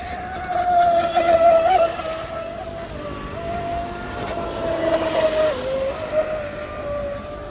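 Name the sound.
Proboat SonicWake 36 RC boat running full tilt on 4S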